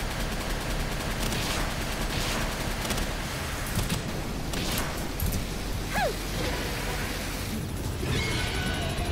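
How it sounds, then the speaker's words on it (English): A minigun on an oil rig in Palworld fires in a long, continuous, roaring stream, loud and dense throughout, with a few sharper cracks and whines breaking through the steady barrage. "Oh, that stupid minigun. Ooh. That thing's eating us alive."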